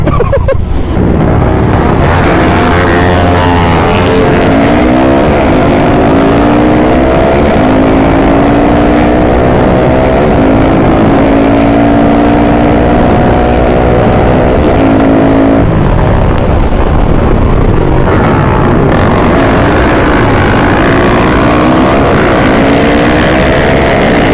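Modified Yamaha Exciter and a Raider fitted with a KTM 690 engine race at the km 18 track in Surat Thani, engines screaming loud and close with rising whines through gear changes across the whole stretch.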